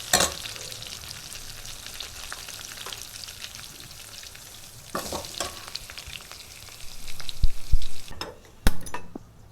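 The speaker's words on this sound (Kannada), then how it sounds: "ಅದನ್ನು ಒಂದು ಫ್ರೈ ಮಾಡಬೇಕಾಗುತ್ತೆ. ಚೆನ್ನಾಗಿ ಫ್ರೈ ಮಾಡ್ಕೊಂಡಾದ್ಮೇಲೆ" Coriander seeds frying in a pan for mutton leg soup, a steady close sizzle with stirring scrapes, growing busier toward the end with a few sharp utensil knocks.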